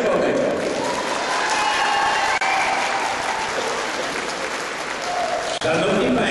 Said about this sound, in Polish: Również proszę o brawa dla zawodnika Starożytka Czerwonego.